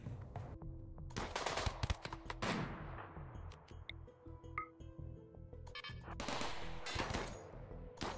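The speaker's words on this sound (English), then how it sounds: "I didn't realize they could shoot that fucking far." Gunfire in the RimWorld video game: rapid bursts of shots with metallic clinks and pings, dense and loud, continuing in clusters throughout without talk.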